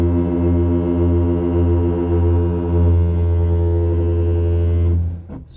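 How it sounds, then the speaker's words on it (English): Kia EV6 electric car brakes groaning while creeping along in traffic: a loud, steady, low harmonic drone that holds for about five seconds, then cuts off abruptly. "this car makes a weird groaning sound from its brakes"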